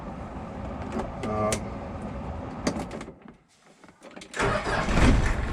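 A vehicle engine cranks and starts amid mechanical clunks and switching sounds, then runs rough and loud after a brief lull, with a person speaking nearby.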